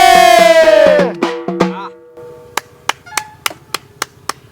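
After a sung folk line fades, a few sharp, evenly spaced hand claps ring out alone at a folk singers' interview, slow and deliberate rather than a full applause.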